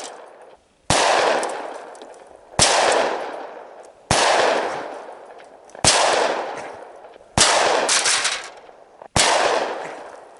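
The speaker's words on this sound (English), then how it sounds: "So I'm going to actually destroy these plates with the 357 mag." Six loud, sharp .357 Magnum handgun shots striking steel plates outdoors, evenly spaced about every one and a half seconds, each a hard crack with a ringing metallic decay, no talking.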